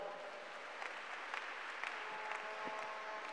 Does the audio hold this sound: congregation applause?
yes